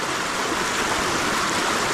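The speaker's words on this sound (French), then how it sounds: "Il y a une petite cascade qui est super belle aussi." Small waterfall pouring in a steady, dense rush of water, close and loud, unbroken from start to finish with no voices.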